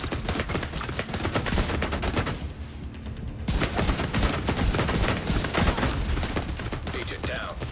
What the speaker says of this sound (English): the turret's shooting over my shield